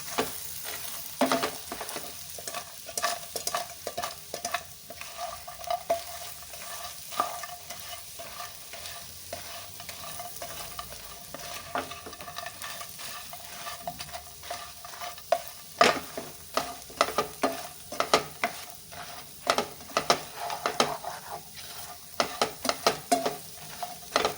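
Roasted french fries stirred in a pan, with repeated scraping and clinking strokes in an uneven rhythm over a soft, steady sizzle, close and moderately quiet, with no talking.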